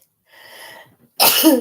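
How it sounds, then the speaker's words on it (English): A single sharp sneeze sounds up close and loud, preceded by a soft breathy intake, with no one speaking. "Confirmation, sneeze."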